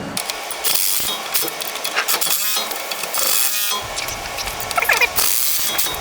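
A dual steering stabilizer mount is tightened onto the tie rod of a 2005–2022 Ford F-250/350, producing close, rapid ratcheting bursts separated by short pauses, loud and mechanical.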